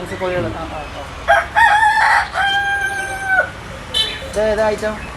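A Cochin rooster at a farm crows several times in drawn-out calls, loud and close, with fainter clucks from other fowl between the crows.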